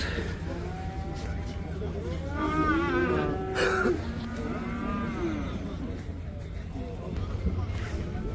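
Pregnant cows at a livestock market in Taraz let out a long, loud moo in the middle, with faint lowing before it and constant crowd chatter and talk all around.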